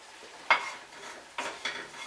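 Garlic is stirred in olive oil in a pan, with two or three distinct clinks and scrapes of a utensil against the pan over a faint, steady sizzle.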